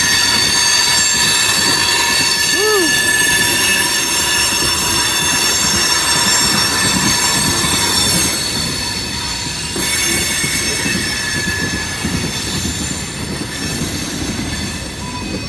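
Loaded freight train wheels squeal steadily in high, piercing tones as railcars grind around a curve, with a continuous metallic rumble underneath.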